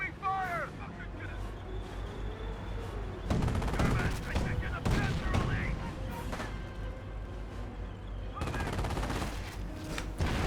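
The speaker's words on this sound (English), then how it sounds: "Incoming enemy fire!" Gunfire from a Company of Heroes battle, with rapid machine-gun bursts and volleys in loud dense stretches, interspersed with quieter combat noise and game voice calls.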